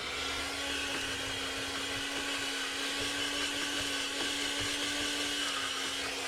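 Electric grinder grinding cannabis buds gives a steady, faint motorized whine with a constant hum, running continuously without pause and with no voices.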